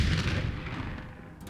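A deep explosion in the video game Foundry, a loud booming blast at the start that rumbles and slowly fades over a second and a half, no speech.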